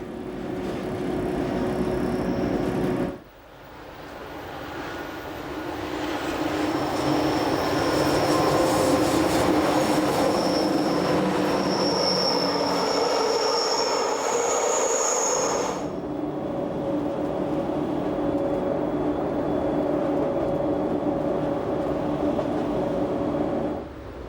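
Glacier Express train on the Swiss rail line between Disentis and St. Moritz running through the Zuandra spiral tunnel near Preda: steady loud rumble of wheels and carriages, with a tunnel-muffled section and faint high wheel squeal, continuous throughout.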